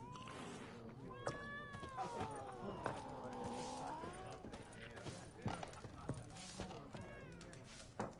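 Cat meows in the video game The Witcher, several drawn-out wavering calls rising and falling in the middle of a busy game soundscape with background chatter and other noise.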